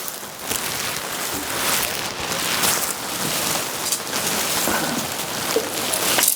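Rain pours steadily over a campsite, a dense, loud wash of drops drumming on surfaces nearby, continuous throughout with slight swells and no voices.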